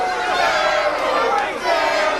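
A wrestling crowd at a watch-along event chants at the wrestler Spellbinder, a dense, loud wall of massed voices that holds steady with a brief dip partway through.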